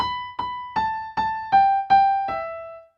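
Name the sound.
piano played legato without pedal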